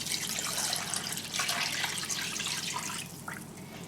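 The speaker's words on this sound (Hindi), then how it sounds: "और इसमें डालेंगे पानी।" Water poured into a cooking pot of chicken seasoned with ginger-garlic paste and salt for masala pilau, a steady close splashing pour running the whole time and easing slightly near the end.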